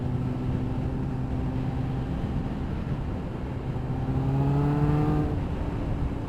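A Kawasaki ZX9R motorcycle engine drones steadily and then climbs in pitch as it accelerates from low revs, heard from the rider's position with constant wind rush.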